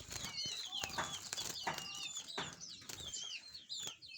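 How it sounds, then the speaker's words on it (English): Domestic canaries in a cage chirp and trill in quick, bright bursts, several birds overlapping close by, with soft fluttering and rustling between calls. "these are amazing canaries. These canaries are very smart."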